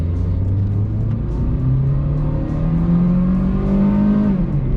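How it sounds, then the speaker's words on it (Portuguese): Chevrolet Corsa Classic 1.6 with a factory automatic gearbox in Sport mode: the engine revs up hard and steadily, its loud drone climbing in pitch before dropping near the end. "Vamos dar outra acelerada aqui."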